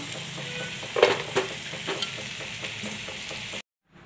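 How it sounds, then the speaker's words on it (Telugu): Onion, green chili and mint frying in a pan: a close, even sizzle with a few stirring scrapes and clinks, stopping abruptly before the end. "ఆనియన్, పచ్చిమిర్చి, పుదీనా ఇలా వేయించుకోవాలి"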